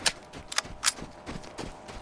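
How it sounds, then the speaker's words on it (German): Several quick, sharp gunshot cracks from the video game Vigor fire in an irregular burst, mid-level and without any voices, with a faint background hiss between shots. "war das denn für ein Schuss,"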